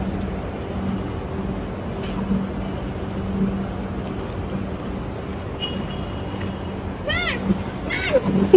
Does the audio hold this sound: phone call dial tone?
no